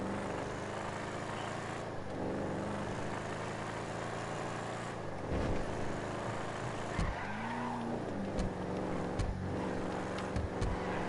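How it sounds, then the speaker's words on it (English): A Vapid Ellie muscle car in Grand Theft Auto 5 drones and revs, with a few sharp exhaust backfire pops and crackles bursting out in the second half. "I like that backfire noise."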